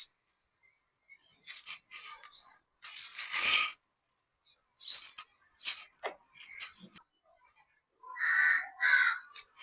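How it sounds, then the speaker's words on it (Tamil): Crows caw in a home vegetable garden in the morning, several harsh calls coming in separate bursts at a moderate distance with quiet gaps between them. "காக்கா காக்காங்குது காலையிலேயே."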